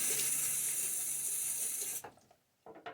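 A bathroom tap runs loudly to rinse a safety razor, a steady close rush for two seconds that then cuts off, followed by a few brief knocks and taps.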